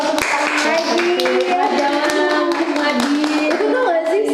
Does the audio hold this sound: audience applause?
yes